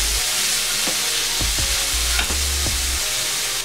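Diced chicken breast sautéing with aromatic onion and garlic over medium heat for chicken sisig, a loud, close, dense sizzle with several spatula scrapes and knocks against the pan.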